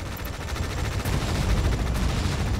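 Sustained rattling gunfire from units in the strategy video game Tom Clancy's EndWar, a dense continuous barrage with heavy low-end rumble across the whole stretch.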